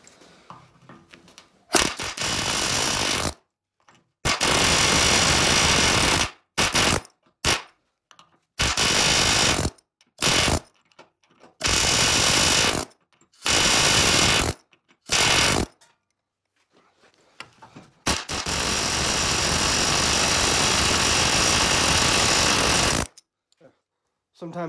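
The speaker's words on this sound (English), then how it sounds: "I use this little pneumatic hammer with a chisel bit." A small pneumatic hammer with a chisel bit knocks rivets out of a truck frame, firing in repeated loud bursts of one to a few seconds each, separated by short pauses, with a long sustained run near the end.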